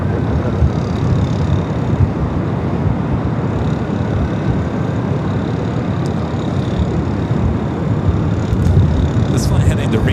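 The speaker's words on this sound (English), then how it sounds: "This flight heading to Reno is 737-800 Southwest, now rolling down at 24 left." A Southwest Boeing 737-800 bound for Reno rolls down runway 24 left at LAX in gusty winds, a loud, steady broadband engine roar that holds throughout, with a voice talking over it.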